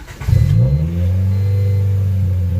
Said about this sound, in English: See how high that idle is, and then she wants to die, and then she bounces right back up.